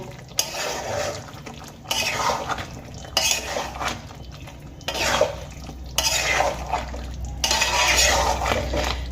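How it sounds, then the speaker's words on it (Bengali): A spoon stirs ghee and five-spice powder into a Bengali shukto with bori, scraping and knocking against the pot in repeated bursts of a second or two each, close and fairly loud, with no talking. "এবার ঘি আর পাঁচফোড়নের গুঁড়ো খুব ভালো করে শুক্তোর মধ্যে আমি মিশিয়ে দেব"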